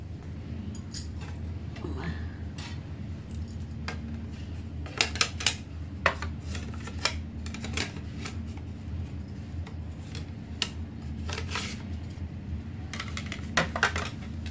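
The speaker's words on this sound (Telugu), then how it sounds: "అరటికాయని తురుము పట్టుకోవాలి ఫ్రెండ్స్" Raw banana is grated on a blade, giving a run of sharp, close metallic scrapes and clinks in irregular bursts over a low steady background hum.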